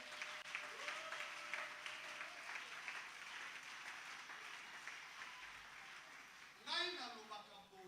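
A church congregation at a French-language evangelical service keeps up a soft, steady applause throughout, heard from a distance under a murmuring voice, with a short shout near the end.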